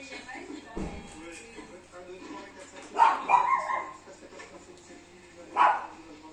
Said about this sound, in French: Le chien de garde.